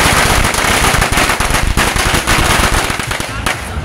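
Loud strings of firecrackers at a Tet celebration in California crackling in rapid bursts, dense popping that rattles on continuously and nearby.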